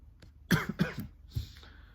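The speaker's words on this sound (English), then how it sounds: "Bit of a cough coming on." A couple of sharp coughs close by, followed by a softer throat-clearing sound, in an otherwise quiet room.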